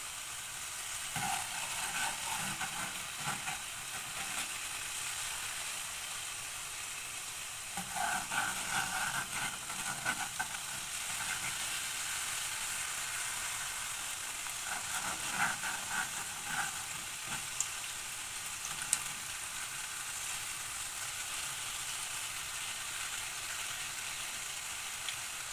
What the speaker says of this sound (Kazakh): Қызған майға енді қытырлағымызды пісіреміз.